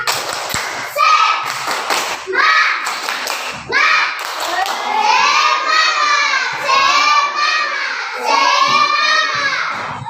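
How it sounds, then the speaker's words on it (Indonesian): Schoolchildren in a classroom perform the rhythmic 'tepuk semangat' clapping routine, many young voices chanting and shouting loudly together over patterned claps and thumps. "Oke, tepuk tangan dulu ya. Tepuk semangat."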